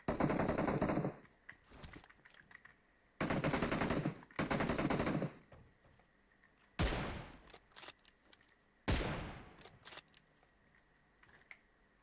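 Bursts of automatic gunfire in PUBG Mobile, loud sustained volleys in two close pairs followed by two sharper single cracks, each trailing off into a quiet gap with faint clicks.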